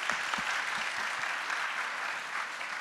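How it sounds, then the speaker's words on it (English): Audience applause at a business event for growth companies fills the room, a steady dense wash of clapping that holds at an even level from start to end with no voices over it. "Can I have a big round of applause for everyone?"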